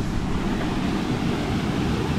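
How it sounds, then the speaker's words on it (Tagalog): Strong wind blows steadily outdoors, a loud, continuous low roar and buffeting with no pauses or speech. "lakas ng hangin po ngayon mga kalingap"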